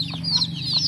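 Backyard chickens, two mother hens with their newly hatched brood, give soft close clucks and short chirping calls over a low steady hum, brief and without speech.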